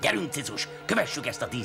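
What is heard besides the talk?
No everyday noises stand out.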